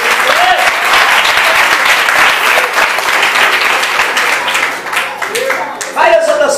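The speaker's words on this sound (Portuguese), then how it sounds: "Pode aplaudir," Church congregation applauds during a service, dense sustained clapping filling the space at strong volume, tapering slightly before a voice speaks over it near the end.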